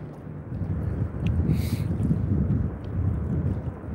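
Gusty wind buffets the microphone beside a muddy river while shad fishing, a low, continuous rumble that rises and falls over a few seconds, outdoors and close.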